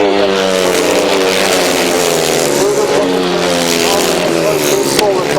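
500cc sidecar outfits race on a grasstrack, their engines a loud, continuous high-pitched roar with rising and falling revs, while a commentator talks over it throughout.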